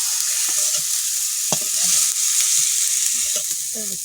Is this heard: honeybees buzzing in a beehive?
no